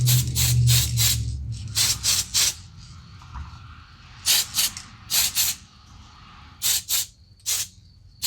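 Short bursts of a spray gun laying clear coat over black interior paint, about a dozen sharp hisses in uneven groups with quiet gaps, close and loud, no talking.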